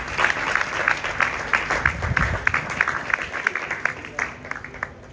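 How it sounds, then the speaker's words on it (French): At the opening ceremony of a francophone media award, the audience claps for the seated candidates, a lively spread of individual hand claps rising and tapering over a few seconds, with murmured voices underneath. "Je voudrais qu'ici, le public puisse vraiment vous applaudir en attendant de connaître le grand gagnant dimanche prochain"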